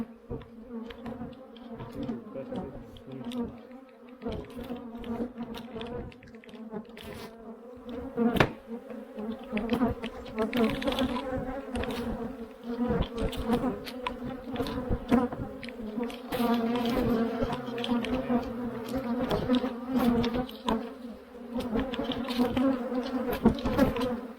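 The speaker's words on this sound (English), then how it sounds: "all these loose bees that are on this top screen and knock them into my hive" A swarm of loose honey bees buzzes continuously around a hive, a dense close drone with scattered bumps and knocks throughout, and no voices.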